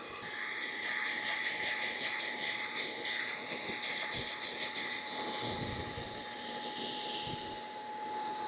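A portable carpet cleaner working over a rug that has never been cleaned, with a steady loud whining motor drone and a rougher scrubbing, sucking sound running through it.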